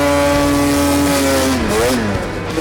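A high-pitched 1000cc race snowmobile engine screams close by, holding high revs around 8,600 RPM before the pitch dips and climbs again, loud and buzzing.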